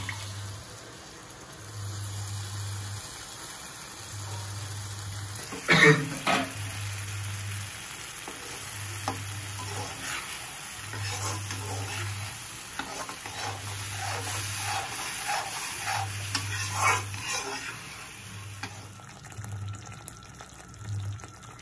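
A ground masala paste fries in butter in a pan for paneer butter masala, a thick splash and sputter as it goes in, then a steady bubbling sizzle with spatula scrapes and a low repeating hum underneath.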